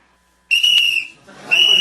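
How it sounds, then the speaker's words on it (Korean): Two sharp, shrill whistle blasts, loud and close, the first about half a second long, the second starting after a brief gap. "여객 주임이 호루라기를 불자"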